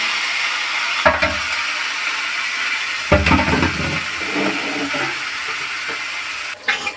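Banana flower dropped into hot spiced oil with prawns in a pan, a steady hiss of sizzling with sudden louder crackling bursts as the pieces hit the oil and are stirred.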